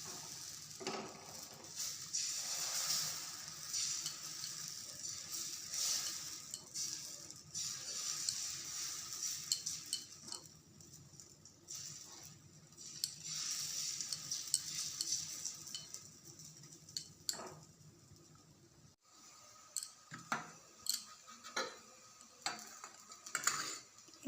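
Batter sizzles steadily on a hot tawa, a soft continuous crackle with faint ticks and scraping as it spreads, fairly close and alone with no talking.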